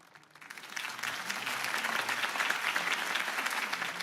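Crowd applause in the Batman Telltale video game after a Harvey Dent campaign speech, a dense wash of clapping that rises within the first second and stays steady and moderately loud throughout.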